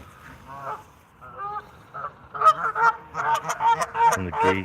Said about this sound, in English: And the geese being noisy.